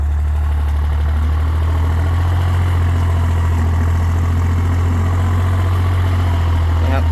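Kubota L1-24 tractor engine pushing soil with its front blade: a loud, steady low diesel drone throughout, close and continuous with no breaks.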